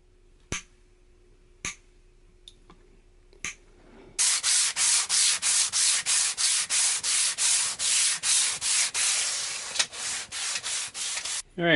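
A sharpened chisel trimming small bits of wood off a fretless bass: a few isolated sharp ticks, then a close, rhythmic run of rasping scraping strokes.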